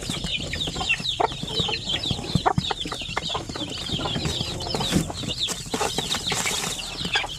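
A brooding mother hen and her chicks are close by, with soft clucks and many high chick peeps cheeping continuously, plus occasional brief flutters.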